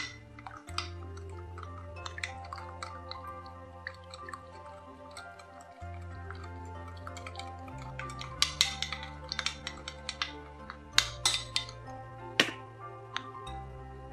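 A dressing of sake, mirin and rice vinegar is stirred in a bowl, giving soft wet swishes, light drips and scattered sharp clinks of a utensil against the bowl. The sounds are close and fairly quiet.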